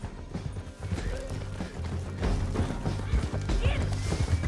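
Horses galloping in a Western video game, rapid hoofbeat clip-clop with a whinny, crashing impacts and a low rumbling score underneath, fairly dense and mid-distance.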